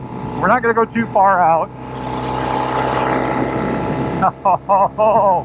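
A 1972 Norton 750 Commando Combat motorcycle revs hard and accelerates through the gears as a steady, loud engine roar. A rider talks excitedly before and after the run.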